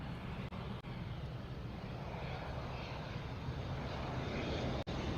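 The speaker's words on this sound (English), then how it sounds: "Got an ATR coming in" An ATR turboprop coming in to land at Auckland Airport, its engine roar steady and loud throughout, broad and continuous with no voices over it.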